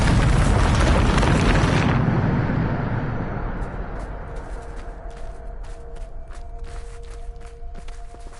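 A booming Bombarda explosion spell from the Hogwarts Legacy video game bursts loudly, then its broad roar fades over several seconds into a quieter rumble with scattered light clicks.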